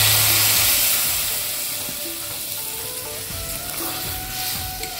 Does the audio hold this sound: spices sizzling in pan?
yes